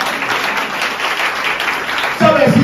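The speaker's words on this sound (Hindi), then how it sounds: "ताली बजाइए, हालेलुया" A church congregation applauds through a Sunday service, dense steady clapping from many hands, with a voice rising over it near the end.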